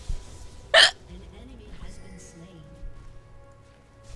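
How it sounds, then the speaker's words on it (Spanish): A single sharp hiccup bursts out loud and close, a brief isolated spasm with quiet background sound and faint murmurs around it during a ranked game session. "Ni con eso se me pasa el hipo."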